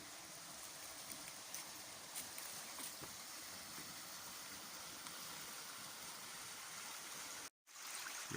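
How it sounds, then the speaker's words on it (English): Small woodland stream in the Forest of Dean flowing steadily, a soft continuous babble and rush heard alone and fairly faint, with a brief dropout near the end. "there should be a little stream around here"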